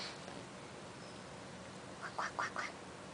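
A few ducks quack in a short nasal burst of three or four calls near the end as they eat rice, heard close but fairly soft over a quiet hissing background, with no talk.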